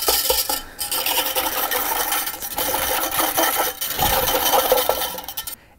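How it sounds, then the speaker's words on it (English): A whisk scraping and rattling briskly through a strong mocha caramel coffee mixture in a cup, fast rhythmic rasping strokes with a couple of brief pauses, close and loud. "I like to use a whisk"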